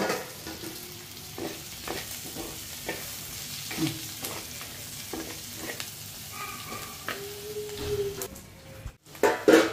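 Flat beans being stirred as they fry in a pan, with steady soft sizzling and repeated scraping stir strokes close by, plus a few sharper clanks near the end.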